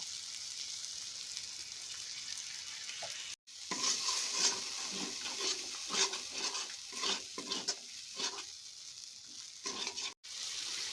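Spice masala sizzles and fries in oil in a pan while being stirred for a Bengali stuffed potol curry, with a steady bright hiss and repeated scraping strokes, close and fairly loud; one brief silent gap early.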